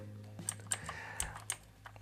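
Scattered keystrokes on an Aukey KM-G6 keyboard, with a handful of distinct, crisp clicks spaced irregularly over a quiet background and no voice.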